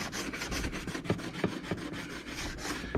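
A green sponge with Dawn dish soap scrubs a vintage metal lunchbox, giving a close, rapid rhythmic rubbing and scraping with brief stronger strokes.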